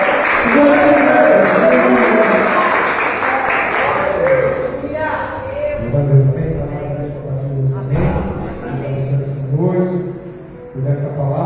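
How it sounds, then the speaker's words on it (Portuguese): A church congregation applauds during an evening Portuguese-language service, a dense, sustained wash of clapping from many hands filling the room, loud and continuous, with voices mixed in beneath it. "Aplauda o Senhor, igreja."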